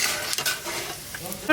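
Whole cardamom, cinnamon, cloves and black cardamom hit hot oil and give off a close, steady sizzle with a few sharp crackles over a very short moment.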